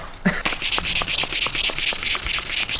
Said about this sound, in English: get some 1500 grit wet and dry sandpaper, and get some WD-40